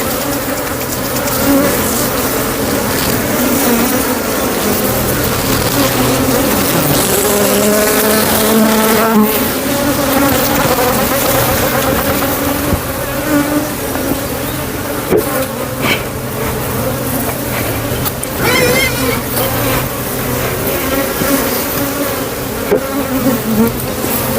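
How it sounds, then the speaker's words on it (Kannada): Honeybees swarm close around a beekeeper, some trapped inside his helmet, making a loud, dense, continuous buzz right at the ear that wavers in pitch as they move. "ಹೆಲ್ಮೆಟ್ ಒಳಗೆ ಜೇನುಹುಳುಗಳು ಸಿಗಾಕೊಂಡಿದ್ದಾವೆ ತೆಗಿಯಂಗೂ ಇಲ್ಲ ಬಿಡಂಗೂ ಇಲ್ಲ"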